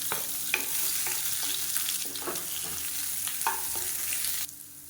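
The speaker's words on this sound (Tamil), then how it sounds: "இப்போ எண்ணெய் நல்லா சூடானதும் மீடியம் சைஸாக பெரிய வெங்காயம் நீளமாக நறுக்குனதை சேர்த்துக்கலாம்" Long-sliced large onions fry in hot oil in a kadai for tomato chutney, a steady loud close sizzle with a few stirring scrapes, cutting off abruptly near the end.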